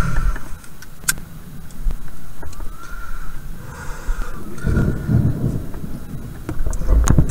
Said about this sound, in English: It's too dangerous to get out of the car because it's popping lightning left and right.